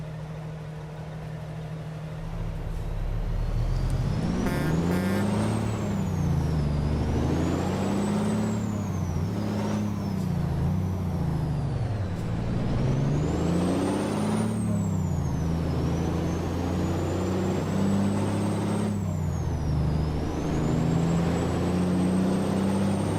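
A big rig in American Truck Simulator idles, then its engine works up through manual gear changes with repeated rising and falling revs, sharp air-brake hisses near the start, and a whining tone above, steady and loud with no talk.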